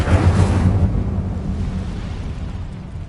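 A fiery Incendio spell cast in the Hogwarts Legacy video game, a loud roaring whoosh-burst that swells at once and then fades into a dull rumbling tail, heard alone with no talking.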